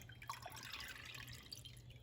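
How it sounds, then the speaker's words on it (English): Water carrying tomato seeds is poured through a small screen strainer, giving a faint, close trickle with light drips that runs steadily for about two seconds, with no voices. "Swish this around one more time and pour it through there."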